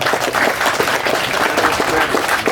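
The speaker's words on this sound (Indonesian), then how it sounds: "Kita pada tepuk tangan." Loud, dense applause from a church gathering celebrating a roof replacement, continuous crowd clapping filling the moment.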